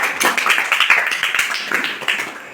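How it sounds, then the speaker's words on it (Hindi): An audience at a motivational educational program claps in a lively, sustained round of applause, fairly loud and close, with many overlapping hand claps. "जोरदार तालियां आप लोगों के लिए"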